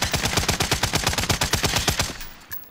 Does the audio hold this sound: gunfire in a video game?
yes